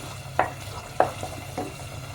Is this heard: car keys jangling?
no